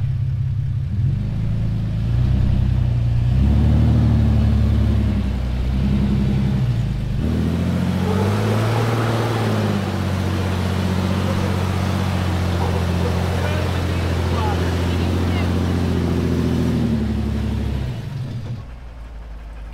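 A stock Jeep grinds up a rocky chute, its engine rumbling loud and close with revving surges over a steady drone; people talk throughout.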